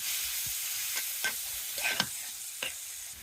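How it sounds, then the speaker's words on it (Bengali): Boiled greens and chopped onion are stirred in a frying pan over an outdoor clay stove: a soft steady sizzle with several scraping strokes of the spoon, close and fairly quiet, with no talking. "এবার ভালো করে পেঁয়াজ কুচির সঙ্গে মিক্স করে নেব।"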